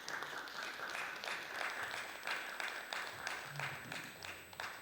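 Sustained applause from a seminar audience at a reunification studies academic seminar in a university alumni hall, steady dense clapping of many hands throughout, moderately loud and close, with no talk over it.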